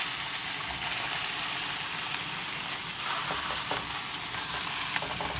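Fish sizzling steadily in a hot pan, a constant close, loud frying hiss with a few faint stirring clicks and no talking.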